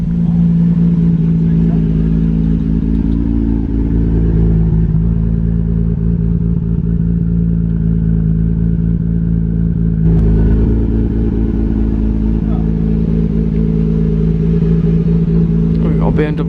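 A deep, rumbling classic car engine idles steadily nearby at a car meet with a throaty low drone, with a slight shift in tone partway through.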